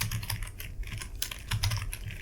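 Computer keyboard typing while entering HTML code, a steady run of close, crisp key clicks in an uneven rhythm with no talking.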